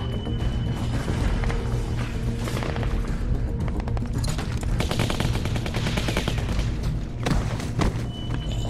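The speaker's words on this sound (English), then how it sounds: "Who has the machine gun?" Machine gun fire in The Walking Dead Season 2 video game, loud and continuous rapid bursts with heavy thuds and booms running through the whole stretch.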